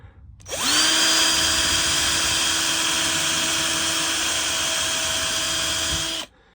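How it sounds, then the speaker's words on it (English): A power drill whines steadily and loudly for about six seconds as it drills out broken, rusted bolts on a Toyota MR2, starting abruptly and cutting off cleanly with no talk over it. "So all we've got to do now is drill out a few broken bolts."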